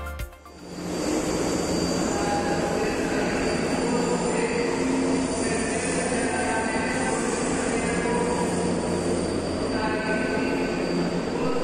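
A metro train at Sé station in São Paulo rolls through with a loud, steady rumble and persistent high wheel squeal, filling the platform with continuous noise after a brief quiet start.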